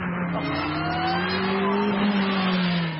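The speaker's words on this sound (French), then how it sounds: "À peine t'accélères, ça part." A powerful road car, driven on a test drive, accelerates hard, its engine note climbing steadily through the revs in a loud, continuous roar heard from inside the cabin.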